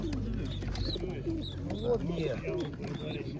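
Several pigeons at a pigeon show coo repeatedly up close in soft, throaty rolls, with murmuring voices in the background.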